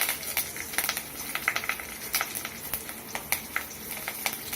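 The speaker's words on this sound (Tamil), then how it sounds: "கடுகு நல்லா வெடிச்சதும்" Mustard seeds crackle and pop in hot oil for a Tamil tomato thokku, sharp irregular bursts scattered over a steady close sizzle, no voices.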